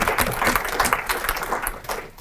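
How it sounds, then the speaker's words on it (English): An audience applauds speakers at a Student Press Freedom Day event at Youngstown State University, steady clapping from many hands filling the room at moderate loudness. "I would like us to give all our speakers another round of applause"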